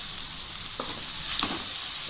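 A tomato mixture for a potato and green pea kootu simmers in a pan under a continuous soft sizzle, with two brief stirring scrapes near the middle.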